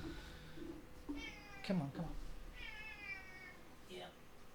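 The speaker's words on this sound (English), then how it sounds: "So you can hear the cat" A cat meows several times indoors, the harmonic cries rising and falling at moderate distance, with a person speaking softly between and over the calls.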